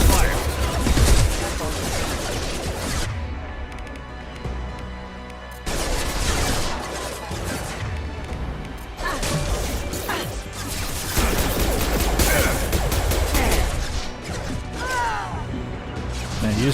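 Gunfire in the video game Mass Effect 2 on PC, loud rapid bursts and crashing impacts coming in waves with short lulls, close and heavy, while voices talk over the battle.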